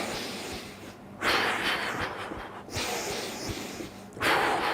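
Three strong nasal inhalations during a workout, each a loud, breathy rush of air lasting about a second and a half, separated by short quieter pauses in a steady rhythm.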